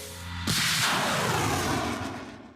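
A single heavy artillery blast booms out suddenly, followed by a long, rumbling roar that slowly fades away.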